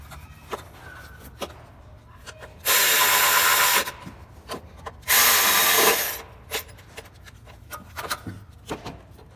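A power tool runs on engine bolts of a 2007 Honda Odyssey 3.5 during a timing belt job, giving two loud bursts of about a second each, separated by quieter clicks and handling noise.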